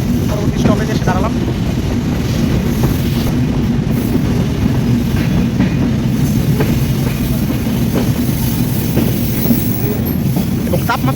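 The Chitra Express passenger train stands or rolls slowly at a railway junction in hot weather, its loud, continuous low rumble and engine drone filling the scene with faint rail clatter.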